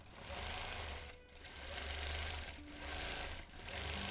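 A sewing machine runs steadily while free-motion quilting a feather design on a wholecloth quilt, its fast continuous stitching broken by a few brief pauses, fairly loud and close with no talking.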